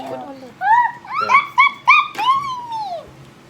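A Scruffaluv toy dog doll gives a run of high, whiny whimpers and short yips, ending in a longer falling whine, heard up close and fairly loud.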